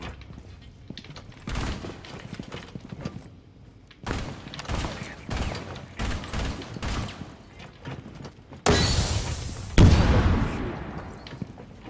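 Bursts of gunfire from a Rainbow Six Siege match come in several volleys, with a louder, close burst near the end, set against quieter stretches of game ambience.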